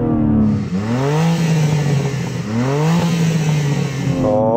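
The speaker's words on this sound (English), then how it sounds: "let's do the customary carwow sound check" BMW M3 Competition engine revs hard, climbing in pitch through several rising sweeps, falling back and then rising again, loud and close with no voices.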